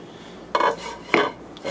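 A frying pan is handled on a kitchen stove: two distinct metallic clanks about half a second apart, then a third softer knock, close and clear with no talking.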